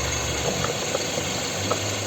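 A 2006 Kia Sportage with a 2.0 petrol engine, manual gearbox and 4x4, idles steadily at close range with a faint rattle and low hum. No one talks.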